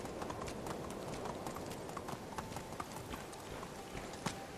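Horse hooves clip-clop steadily in the Medieval Dynasty video game, a quick even run of clopping footfalls over a constant background hiss.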